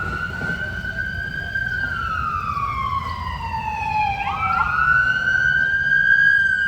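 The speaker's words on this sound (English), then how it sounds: "Them sirens going on." An emergency vehicle siren wails loudly on a city street, its rising and falling tone sweeping continuously and growing slightly louder toward the end, over low traffic rumble, with no voices.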